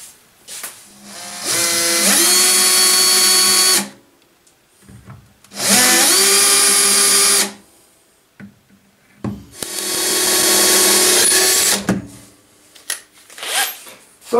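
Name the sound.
power drill drilling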